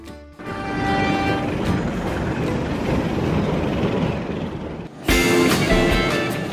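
Brawijaya passenger train on the Jakarta Gambir to Malang route in Indonesia, rumbling steadily with horn-like tones, then a sharp louder burst of rail noise near the end, with no talking.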